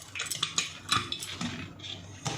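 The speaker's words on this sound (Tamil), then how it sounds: "இப்போ நம்ம குக்கர் மூடிடலாம்" A home kitchen pressure cooker gets its metal lid set on and closed while tapioca cooks, giving a run of close clanks, scrapes and taps of metal against metal, with no talking.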